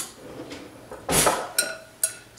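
Spoon scraping and clinking against a dish while blackberries and their juice are spooned over pound cake for a trifle, one longer scrape followed by two short, crisp clinks, close and alone.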